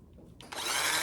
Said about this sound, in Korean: 요 휘핑을 한번 해보겠습니다